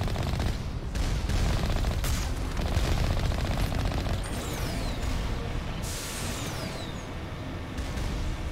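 Mass Effect turret fire raking shields: sustained, loud rapid-fire bursts with sharp energy hits and a couple of descending whooshes, steady and unbroken from start to end.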